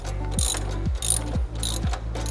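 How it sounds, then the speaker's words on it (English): Ratchet wrench tightening the adjustment nuts on the roller tensioners of an upper twine tensioning system, a steady clicking ratchet in several bursts with brief pauses between strokes, close and alone. "So I'm going to go ahead and tighten each one of those adjustment nuts down"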